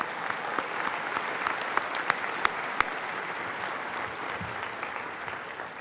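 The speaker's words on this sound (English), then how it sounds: "So let's still applaud Dr. Lessig." Audience members at a medical school hooding ceremony give a moderate round of applause, an even wash of many hands with a few sharper, closer claps standing out, heard at some distance.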